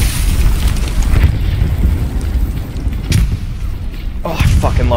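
A satchel charge explodes and destroys a tank in the World War II game Hell Let Loose, a heavy, rumbling boom that fills the mix, with a second blast rolling in later and a voice talking over it.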